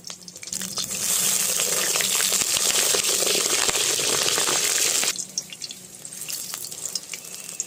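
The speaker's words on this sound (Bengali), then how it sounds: "বন্ধুরা, এইভাবে বেগুনগুলো আমি ভেজে নেব" Eggplant slices hit hot oil in a pan with a loud, dense hiss that holds for about four seconds, then settle into a softer, crackling fry with small pops.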